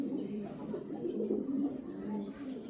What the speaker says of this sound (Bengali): পায়রাটা দেখুন